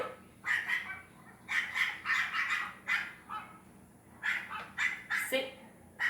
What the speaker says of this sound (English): This is a dog barking. A small dog barking.